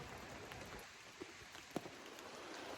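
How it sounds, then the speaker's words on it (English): Rain falls as a soft, steady hiss outdoors, faint and distant, with a few scattered drops ticking nearby and no talking. "This rain's been fun"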